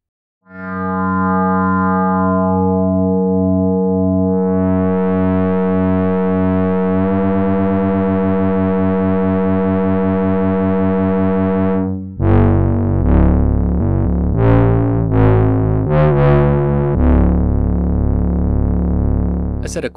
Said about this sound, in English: We have a classic FM synth voice that sounds like this.